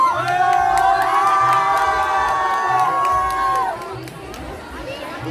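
A large audience at a beauty expo student performance in Delhi cheers and whoops loudly for several seconds, a dense, sustained roar of shouting voices that eases slightly toward the end.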